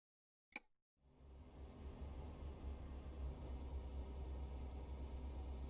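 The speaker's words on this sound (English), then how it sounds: "Truck engine." A brief click, then the engine of a truck in Euro Truck Simulator 2 heard from inside the cab settles into a steady, even low rumble that continues unbroken to the end.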